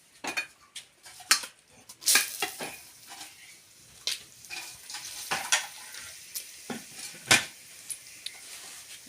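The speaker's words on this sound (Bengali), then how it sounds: "ফোড়নে দেবো শুকনো লঙ্কা, তেজপাতা, গরম মশলা আর গোটা জিরে।" Dry chilli, bay leaf, garam masala and whole cumin go into hot mustard oil, a faint sizzle under sharp clinks and scrapes of a metal spoon stirring in the pan.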